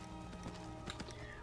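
Horse galloping in Skyrim, quick rhythmic hoofbeats over a continuous game soundscape, fairly quiet and steady throughout.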